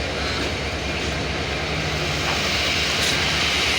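Loco 2930 brings the 767 Dolanchapa Express into Parbatipur Junction with a steady, loud roar of rolling wagons that builds slightly toward the end, nearby and without talk.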